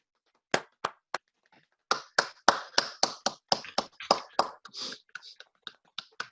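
Scattered hand claps for key workers from a few people in an online meeting, starting as three isolated claps, then a brisk run of sharp, close claps that thins out toward the end, with no talk.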